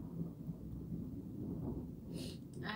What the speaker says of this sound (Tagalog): Kumukulog.